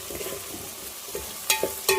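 Masala paste with a little turmeric frying in a pan, giving a low steady sizzle and a few louder spatula scrapes near the end, close by with no voices.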